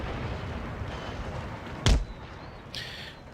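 A fortress wall in Empire: Total War gives way under artillery fire: one short, heavy crash stands out over a steady low rumble of battle noise, and a fainter hiss of debris follows a second later.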